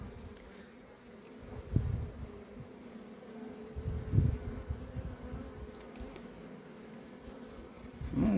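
Honeybees buzz steadily around an open hive while frames are inspected, ahead of a move to rapeseed fields, a close, continuous low drone with a few louder swells and light handling knocks.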